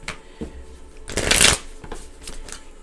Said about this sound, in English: So I'm going to shuffle these again.